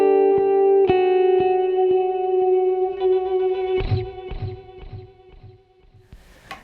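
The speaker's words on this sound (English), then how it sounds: "the smooth setting is supposed to sound a little like a reverb." Electric guitar through a Boss DD-20 Giga Delay pedal on its smooth setting, a ringing chord that blooms into soft ambient repeats, followed by a few plucked notes and scrapes that echo and fade.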